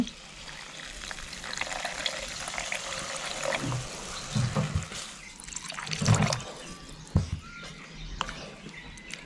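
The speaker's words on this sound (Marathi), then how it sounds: "आता ह्याच्यात आपल्याला पाणी ओतायचं आहे पाणी पण जरा असं कोमट करून घेतलंय मी" Warm water pours and splashes into a pan of cashew masala curry in uneven bursts, with faint clinks and a quiet background hiss.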